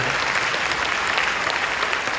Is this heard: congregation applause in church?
yes